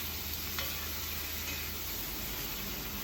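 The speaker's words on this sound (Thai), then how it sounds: "พัดคลุกเคล้าให้เข้ากันค่ะ" Pork ribs with pickled bamboo shoots being stir-fried in a pot give a steady, soft sizzle and hiss with faint stirring scrapes, continuous and fairly quiet, with no talking.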